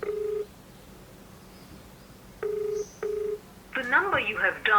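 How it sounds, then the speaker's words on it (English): A GSM device's incoming phone call rings through twice, each a steady tone burst, before a short crackly automated voice message begins. "After 2 rings the device disconnects the call."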